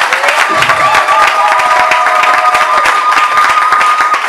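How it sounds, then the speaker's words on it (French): A church gathering bursts into loud, sustained clapping and cheering, a dense steady wash of hands and voices close by that holds at full strength throughout. "Alors, des acclamations pour vous tous."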